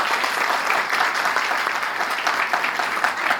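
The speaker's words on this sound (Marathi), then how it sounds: "प्रिन्सिपल मॅम साठी आणि यांच्या जोरदार टाळ्या झाल्या पाहिजे" An audience at a college road safety awareness event gives a steady, dense round of clapping, close and sustained throughout, with no voices over it.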